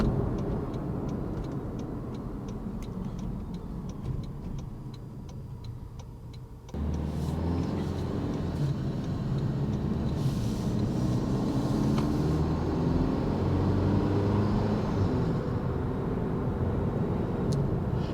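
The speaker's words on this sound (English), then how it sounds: "one of the first things I noticed about this power plant as well is it is a 4-cylinder, but it doesn't sound as trashy" The 4-cylinder engine of a 2025 Toyota 4Runner drones steadily from inside the cabin while driving. It grows louder and deeper partway through and then holds a constant hum.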